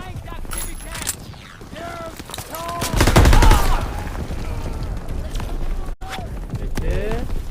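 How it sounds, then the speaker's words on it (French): Rapid machine-gun fire and gunshots in the World War II video game Call of Duty WW2, loud and continuous with a heavy burst midway, a voice speaking over the battle. "Impossible d'avancer, ces mitrailleuses tirent sur notre position."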